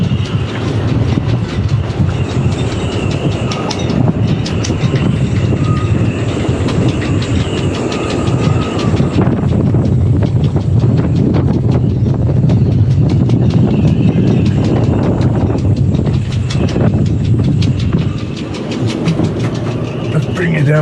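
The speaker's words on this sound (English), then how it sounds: "I trust you can hear that. It's quite a gale." Gale-force wind buffets a sailboat, a loud, continuous rushing roar with heavy low-frequency gusting and rattling across the whole span, steady and close, with no clear talk over it.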